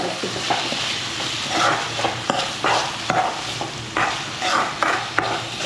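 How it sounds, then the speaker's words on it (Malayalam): Tomatoes and onions sauté in a pan for a tomato curry, with a steady sizzle broken by repeated scraping stirs of the spoon, close and fairly loud, with no talking. "തക്കാളി ഇട്ട് നല്ലപോലെ ഇളക്കി"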